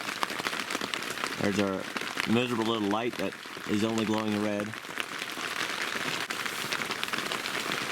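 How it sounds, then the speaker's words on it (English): Steady rain patters on a tent during a backcountry elk hunt in Montana, a dense continuous hiss of drops on fabric running throughout, with a person talking close by partway through. "And listen to the rain."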